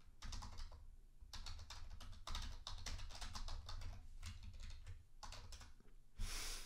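Rapid, close fingers tap on a computer keyboard, in uneven bursts with a few short pauses and a final louder clack, and no talking.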